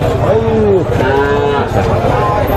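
A cow moos loudly and close by at a cattle market, a long drawn-out low call followed by a second shorter moo, over a noisy background with voices.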